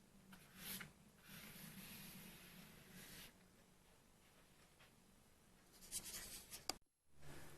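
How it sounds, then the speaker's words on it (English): Soft, sweeping horizontal watercolour brush strokes rasp across wet paper in a few long passes, very quiet and close, separated by brief pauses. "Some sweeping horizontal brush strokes"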